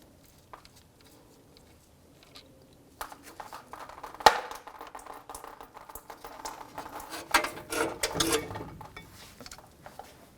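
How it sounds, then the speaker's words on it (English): Wrench breaking free and turning the brake line banjo bolt on a 2011-2017 Honda Odyssey front caliper, with clicks and metallic knocks from about three seconds on, plus a sharp clank near four seconds, close and moderate in level. "Now I can remove this banjo bolt for the brake line."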